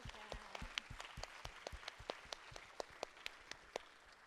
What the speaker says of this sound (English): please join me in a round of applause for Pizza Cat and their wonderful donation